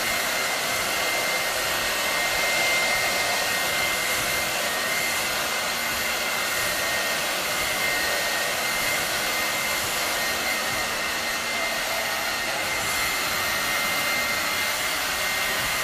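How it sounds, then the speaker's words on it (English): A handheld blow dryer runs steadily on a low airflow setting while hair is dried over a brush during a haircut, a continuous close whooshing hum with no talking. "Keeping the airflow down and just loosely following the brush with the blow dryer."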